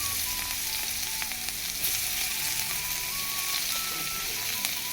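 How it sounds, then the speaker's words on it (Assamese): Sliced onions fry in leftover oil from cooking Kanduli fish, a steady close sizzle filling the pan throughout with no talk. "এয়া সেইখিনিত মই এবাৰ পিঁয়াজ দি দিছোঁ।"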